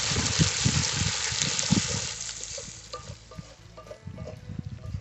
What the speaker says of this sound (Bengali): পেঁয়াজটা একটু হালকা ভাজা হয়ে গেছে